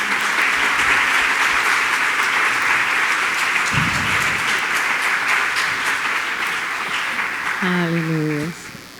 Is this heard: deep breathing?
no